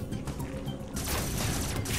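Rapid blaster gunfire from the video game Metroid Dread, a continuous dense volley of shots that grows louder partway through, alongside busy game sound effects, with no talking.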